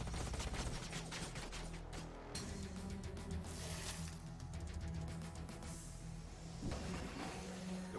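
Units exchange gunfire in the sci-fi strategy game Age of Wonders Planetfall, with dense rapid volleys of shots running steadily over a constant low battle drone for the whole stretch.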